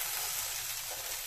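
Sweet potato and chickpeas sizzle steadily in a hot pan while being stirred, a close, continuous hissing fry with no voices.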